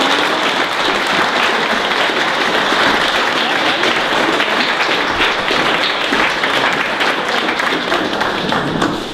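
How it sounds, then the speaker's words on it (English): Wedding guests applaud in a dense, sustained round of clapping that stays loud and even from start to finish. "Can we have a round of applause?"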